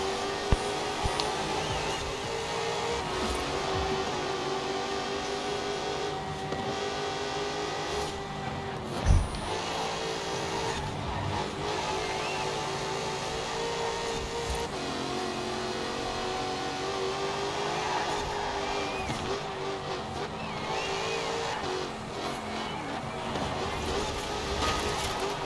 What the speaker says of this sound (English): Ooh, yeah, that wheel spin. God, the sound.